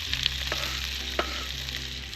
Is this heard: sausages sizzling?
yes